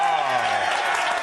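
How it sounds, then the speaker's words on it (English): A studio audience applauds and cheers on a TV talk show as Jack Black is welcomed back: a dense, steady wash of clapping that stays loud throughout, with a voice rising over it early on. "Huge applause."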